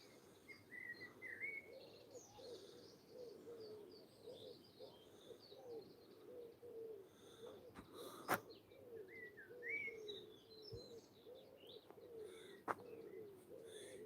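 Birds sing and chirp outdoors at Withernsea in East Yorkshire while pigeons coo steadily underneath, a faint, continuous mix of distant calls along an old railway trackbed.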